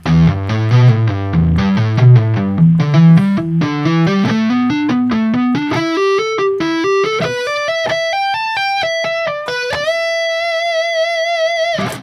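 A distorted electric guitar plays a slow pentatonic lick, notes climbing steadily upward and ending on a long sustained bend.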